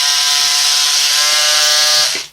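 An electric cutter makes a cut with a loud, close, continuous high buzzing whine that holds steady for about two seconds, then winds down and stops.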